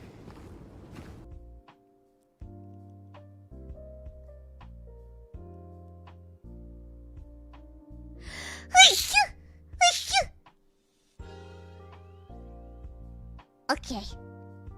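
Several hololive EN/ID streamers sneeze one after another, sharp bursts close to the microphone, with talking and background music between them.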